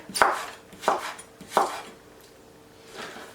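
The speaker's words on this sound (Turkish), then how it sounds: "bunları da biberler gibi ince ince doğrayacağım öncelikle" Sharp knife chops on a cutting board, finely chopping vegetables into small pieces, a few separate strikes with short pauses, close and clear, then a softer final cut.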